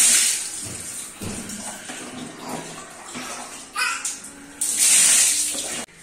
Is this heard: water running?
yes